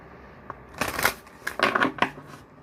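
Oracle and tarot cards riffle and shuffle in the hands, several close, papery bursts in an uneven rhythm, loud against a quiet room.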